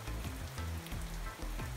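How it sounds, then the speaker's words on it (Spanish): Steady rain falls at an ocean-front campground, a dense continuous patter on surfaces with no voices, with some soft lower thuds of drops beneath the hiss. "hay momentos en que se nos viene la lluvia"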